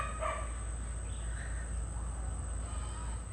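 A dog barks a couple of times somewhere far off from a garden in Chuuk, faint under a constant buzz of insects and a low outdoor hum.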